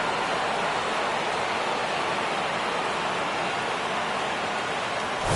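Steady, dense rain falls across a baseball field in MLB23, a broad continuous hiss that holds evenly loud throughout with no talk over it.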